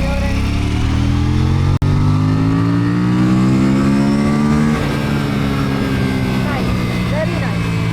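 An Aprilia Tuono 457 motorcycle accelerates uphill in third gear, its engine note rising steadily and loud up close, then easing off, with a brief sharp click partway through and a rider's voice speaking over it.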